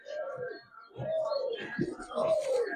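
Giribaz pigeons cooing up close, three or four soft, low rolling coos in quick succession, with faint background voices.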